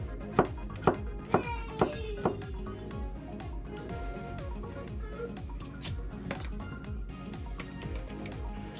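Kitchen knife slicing peeled garlic cloves on a cutting board, a quick run of five or six crisp chops at the start and then steady soft cutting throughout, with background music playing.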